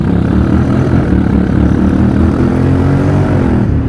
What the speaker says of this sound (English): and then I accelerate. You see, it's full throttle.